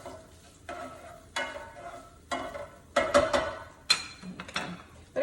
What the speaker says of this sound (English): Let me push that down, stir this around.